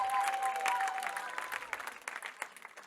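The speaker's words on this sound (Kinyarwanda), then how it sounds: "Komera Imana amashyi." A church congregation claps together through a worship service, a dense patter of hands that starts full and thins toward the end, with a sustained tone and faint voices blended in.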